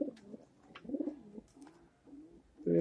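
An old-breed Bagai-style green gola pigeon sitting with its eggs gives a series of low, rolling coos close by, with a louder coo at the end.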